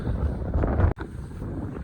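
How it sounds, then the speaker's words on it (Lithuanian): Steady wind on Keilir mountain in Iceland buffets the microphone with a broad low rumble, briefly cut off by a sharp drop near the middle before resuming. "tam pakilo vėjas"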